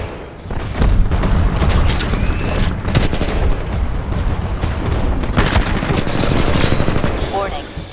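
Rapid automatic gunfire and explosive booms from Titanfall 2 Bounty Hunter combat at Firebase Kodai ring out loud and continuous, layered with mechanical clatter and a synthetic voice announcing warnings.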